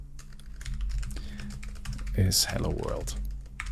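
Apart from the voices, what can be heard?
typing on a computer keyboard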